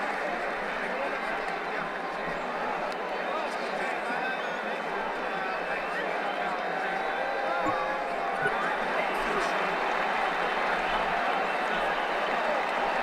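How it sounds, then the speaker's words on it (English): Steady, dense cricket stadium crowd noise from a video game, with a continuous murmur and cheering, evenly loud throughout with no breaks. "There's a noisy crowd in today"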